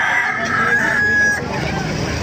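A rooster at a market crows once, clearly but not loudly, over crowd chatter and general market bustle.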